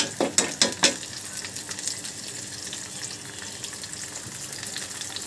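Sliced onions and green chilies go into a pan with nearly cooked garlic and fry with a steady close sizzle, opening with a few sharp crackles and spits before settling into continuous hissing.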